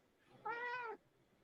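A single clear meow from a cat, short and tonal, standing alone against quiet background hiss.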